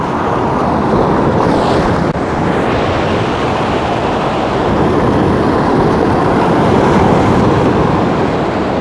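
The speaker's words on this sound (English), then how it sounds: "the waves seem like they're super strong" Strong ocean waves pounding a Bali shore make a loud, continuous roaring wash that stays dense and unbroken throughout, with no voices.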